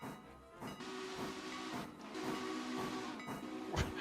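A steam locomotive whistle in the video game Railroader gives two sustained blasts, each lasting about a second, over a continuous hiss of escaping steam.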